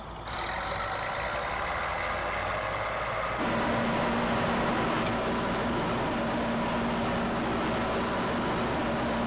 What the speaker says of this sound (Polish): Posłuchajcie ten dźwięk bizona.